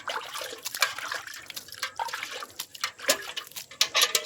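Water sprinkled lightly onto a potted balsam plant, soft irregular splashes and drips close by with no talking.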